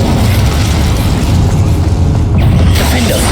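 A loud, sustained roaring burst of magical fire in Hogwarts Legacy, a dense rushing blaze that holds steady for a few seconds with a slight flare near the end.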